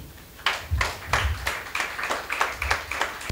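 A few people clap in separate, sharp bursts, spaced and uneven rather than building into full applause, close to the listener.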